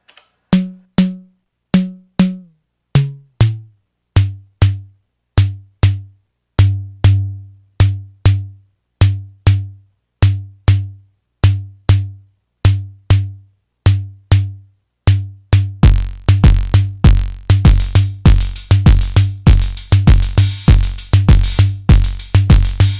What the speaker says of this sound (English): The new snare is called Natural Snare Drum.